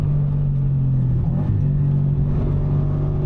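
Subaru BRZ track car engine on a racing circuit, a steady loud drone with a strong low harmonic that dips briefly and then holds on throttle, with constant rumble throughout and no talk.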